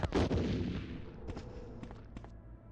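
Grenade blasts in the Resident Evil video game: one heavy, booming explosion opens the clip and rumbles away, followed by a few sharper, quieter bangs later on, with no talk over them.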